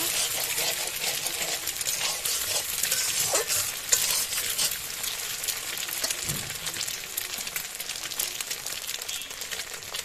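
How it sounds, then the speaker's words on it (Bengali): Beaten egg is stirred and fried in a pan with onion and chili. A dense, crackling sizzle carries on for ten seconds, mixed with constant scraping and stirring from a spatula. "এবার ডিমও খুব ভালো করে ভেজে নেব।"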